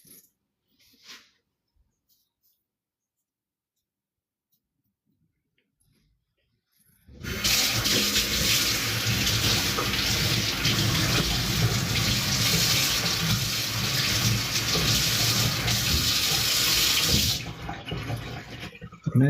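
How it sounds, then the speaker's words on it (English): Kitchen sink tap runs strongly for about ten seconds as a knife is rinsed, a close, steady splashing rush that starts abruptly after near silence and cuts off just as suddenly. "I'm gonna rinse the knife."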